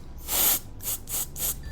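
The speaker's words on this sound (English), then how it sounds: "No, it's a spray." Three short hissing bursts of hair product sprayed from an aerosol can, close and fairly loud, separated by brief pauses.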